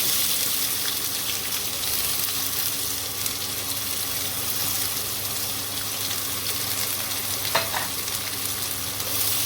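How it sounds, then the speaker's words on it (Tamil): Onion frying in hot oil for tomato rice gives a steady, close, dense sizzle that holds at an even level throughout, with faint stirring scrapes and no voices. "இதெல்லாம் பொரிஞ்சதும் வெங்காயத்தை ஆட் பண்ணிக்கோங்க"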